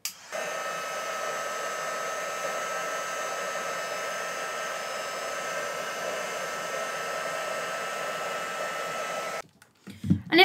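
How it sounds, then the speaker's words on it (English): Heat tool warming shimmer embossing powder on a craft piece, a steady whirring blower hiss that starts abruptly, runs evenly for about nine seconds, then switches off, followed by a few faint handling sounds. "So I'm just going to get my heat tool and heat this up."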